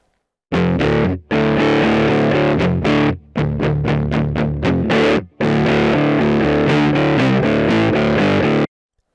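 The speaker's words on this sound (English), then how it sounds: "It may not be the greatest guitar sound ever created" Heavily distorted electric guitar through a virtual guitar rig plays chunky chords and a run of quick choppy stabs, loud and up front, with brief silent gaps between phrases.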